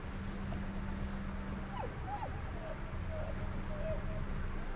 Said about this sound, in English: Another dog. What are you doing here?